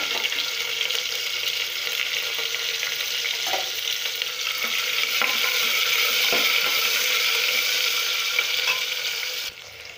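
Onion and green chili frying in a pan for veg pulao, a steady, loud hiss running throughout with a few faint stirring knocks, dropping off slightly at the very end.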